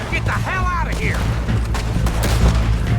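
Gunfire in Red Dead Redemption 2 during a bank robbery in Valentine, a steady rumble of shots and blasts running under layered game sounds, with a voice talking over it.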